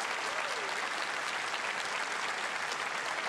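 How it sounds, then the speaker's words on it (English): A crowd applauding steadily at the PAX West 2024 gaming convention, dense clapping at an even level for a few seconds with no voices. "Definitely deserves a round of applause."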